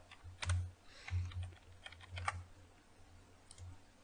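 Keys clack on a computer keyboard in short, uneven bursts of quiet presses, close but faint, with brief pauses between groups and no one speaking.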